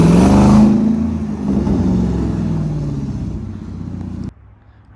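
A straight-piped 2020 Dodge SRT roars loudly through a rev that swells and then fades into a lower rumble before cutting off sharply near the end.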